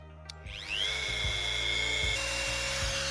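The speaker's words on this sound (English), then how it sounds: "Let's see if the Jackery is powerful enough to use this Dremel with." A Dremel rotary tool powered by a Jackery battery starts with a quick click and spins up into a steady high whine, running close and constant for a few seconds.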